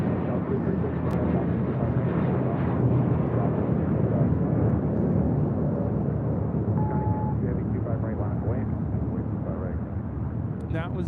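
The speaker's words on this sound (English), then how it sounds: "That was JetBlue Airways 2785 taking off to Miami on an A321" A JetBlue Airbus A321 takes off at LAX with a sustained, heavy jet engine roar that fills the low and middle range steadily throughout, fairly loud and unbroken.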